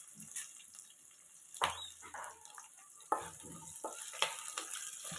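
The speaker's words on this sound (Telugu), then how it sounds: "మీడియం ఫ్లేమ్లో పెట్టుకొని ఇవన్నీ బాగా ఫ్రై చేసుకోండి." Onion, curry leaves and green chilies fry in oil over medium flame with tempering seeds, a soft crackling sizzle with stirring clatters and a few sharp knocks against the pan, fairly quiet and without talk.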